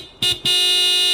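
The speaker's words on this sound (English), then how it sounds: "This is where I want the horn to sound like the car built for Homer from Simpsons Hit and Run." Car horn in the adventure game Broken Sword 5, two short loud honks followed by one long sustained blast, close and alone with no talking.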